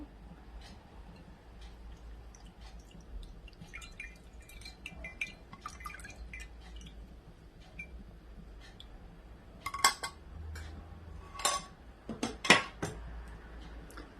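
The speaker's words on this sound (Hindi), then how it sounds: "छन्ने में डाल के ऑयल को मैं ड्रेन कर लूँगी" Oil draining from nihari gravy through a strainer, with quiet metallic clinks and drips, then a few sharper utensil knocks against the pot near the end.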